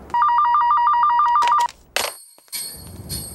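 A telephone rings in a warbling electronic trill for about a second and a half, loud and close, followed by brief clicks and a faint high electronic tone in a quiet room.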